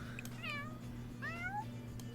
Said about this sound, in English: I think she has a much clearer meow.